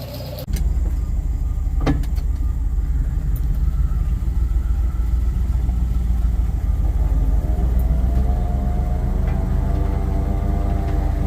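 A 1973 Dodge ramp truck's 318 V8 engine starts after a short click and settles into a loud, steady, low rumbling idle, heard close and alone for about ten seconds.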